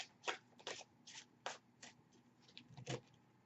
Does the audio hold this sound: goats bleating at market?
no